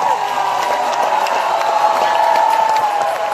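A crowd at a pro-Palestine rally in Kota Kinabalu, Sabah cheers steadily and loudly, a dense wash of voices with scattered shouts and whoops sustained throughout.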